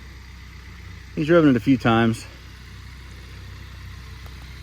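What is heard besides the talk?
tractor engine running while being driven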